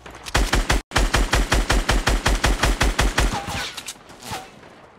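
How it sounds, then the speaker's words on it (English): Rapid automatic gunfire in Fortnite, a long steady burst of evenly spaced loud shots after one brief pause, then fading into a few scattered distant pops, close and dominant with no talk over it. "They're shooting at you."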